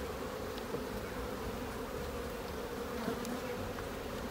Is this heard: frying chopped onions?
no